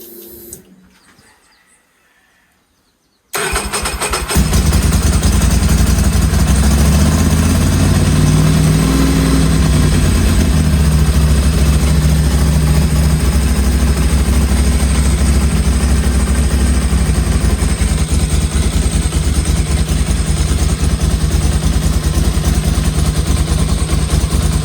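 A Ducati Monster 900 S ie motorcycle engine cranks and catches after a short quiet stretch, then settles into a loud, steady, close-up idle with a rough, pulsing rumble that holds to the end.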